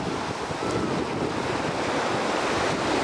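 Ocean surf rolling onto a beach, a steady loud wash of breaking waves with wind buffeting the microphone throughout, no voices.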